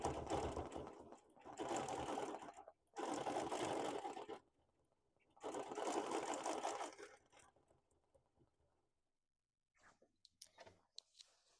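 A sewing machine doing free motion quilting on a wholecloth quilt with cotton and wool batting, running in steady whirring bursts of one to two seconds with brief stops between, then quieter clicks near the end.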